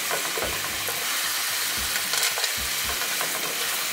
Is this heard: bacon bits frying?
yes